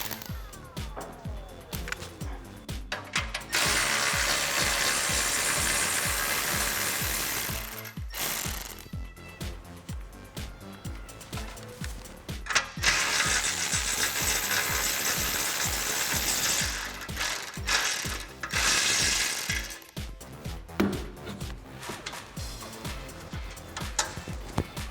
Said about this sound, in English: we're going to use our 10mm socket in order to remove these nuts